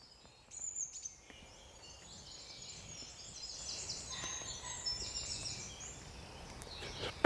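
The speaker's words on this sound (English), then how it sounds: "Full of birdsong, absolutely full of birdsong, just wonderful." Morning woodland birdsong: high, thin chirps and warbling calls from several birds, fairly distant and soft over quiet background hush, denser toward the middle.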